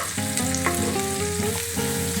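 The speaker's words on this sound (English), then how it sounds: "You can hear them sizzle now" Onions sizzle in butter in a pan over low heat, a close, continuous crackling fry with music playing underneath.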